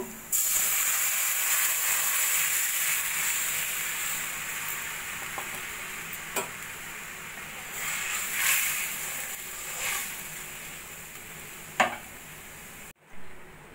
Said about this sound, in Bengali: এবার আমি দই আর বেসনের মিশ্রণটা দিয়ে দেব।